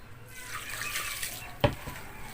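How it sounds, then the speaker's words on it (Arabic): Water is added little by little to bread dough for a diet loaf, a soft trickling splash followed by one brief sharper pour or slosh, with quiet kitchen background throughout. "بزود الميه حبه بحبه علشان ما تمرقش معايا قوي العجينه"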